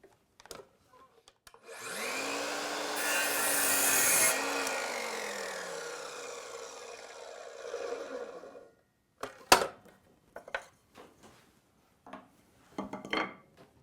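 A handsaw cuts through a wooden stool leg to length in a workshop, a sustained rasping stroke building then trailing off, followed by a few sharp knocks and taps of wood.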